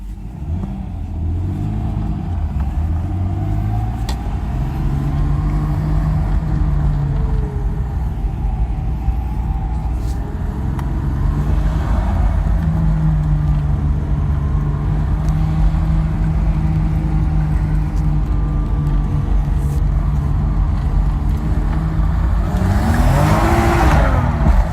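A Nissan RB25DET engine with blow-through MAFs runs steadily at a close, loud idle for a long stretch on a cold day, with a few mild revs swelling over the drone.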